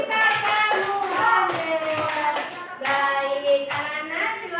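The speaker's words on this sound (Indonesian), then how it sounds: "Oke, tepuk tangan untuk kita semua." Children in a classroom clap their hands in short rhythmic bursts, close and fairly loud, with sung or chanted voices running over the claps.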